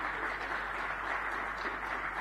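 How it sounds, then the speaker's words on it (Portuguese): An audience applauds after a winner is announced at a WordCamp Lisboa talk, a steady, even wash of clapping held at moderate level throughout. "E quem ganhou foi o Nuno M. Um aplauso."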